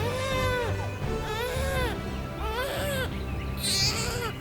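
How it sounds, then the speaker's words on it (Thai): An infant wails in repeated rising and falling cries from a bamboo thicket, loud and close, in several long bursts with brief breaths between. "นั่นเสียงเด็กหรือ"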